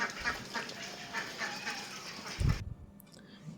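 Ducks quack in a short burst of honking calls over the steady hiss of rain, fairly close, before the sound drops away abruptly.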